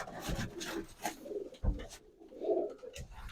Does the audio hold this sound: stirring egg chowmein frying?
no